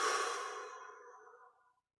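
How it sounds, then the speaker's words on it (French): A deep, slow exhale during a guided yoga breathing exercise, breathy and close, fading steadily over about a second and a half into silence, with no talking. "On relâche et on expire."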